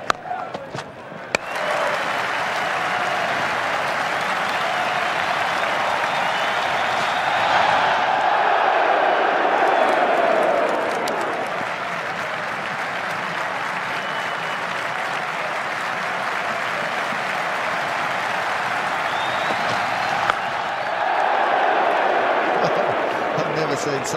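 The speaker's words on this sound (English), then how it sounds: "Such an applauded dot ball." A cricket crowd at an Indian match applauds a dot ball with sustained, broad clapping that swells and fades across the stadium and then rises again, with some talk underneath.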